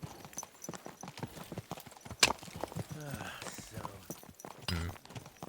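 Hooves clip-clop in a quick trotting rhythm in the video game Kingdom Come: Deliverance II, with a horse snorting briefly, while people talk over the steady hoofbeats.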